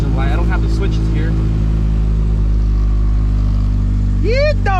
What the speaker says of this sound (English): I forgot how loud this car is.